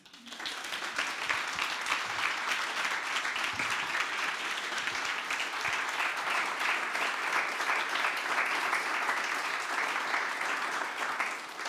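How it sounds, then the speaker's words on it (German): Dense, steady audience applause fills a conference hall at the closing plenary, many hands clapping together continuously for about twelve seconds, fairly loud with no speech over it. "Vielleicht spendieren wir da einen gesammelten Applaus."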